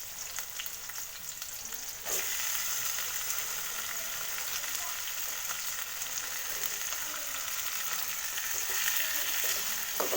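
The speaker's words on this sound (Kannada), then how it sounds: "ಇದನ್ನು ಸ್ವಲ್ಪ ಫ್ರೈ ಮಾಡ್ಕೊಳ್ಳೋಣ." Tomatoes fry in oil for a soybean gravy, a continuous close sizzle that jumps louder after a stir or addition at about two seconds, then stays steady with occasional scraping of the pan and no talk.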